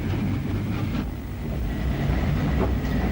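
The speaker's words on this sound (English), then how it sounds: "Our train, bound for Brecon, heads to the right and arrives at the station." A 1950s–60s British Railways train bound for Brecon pulls into Talyllyn Junction station, its wagons rumbling loudly and steadily with faint rhythmic clicks from the wheels.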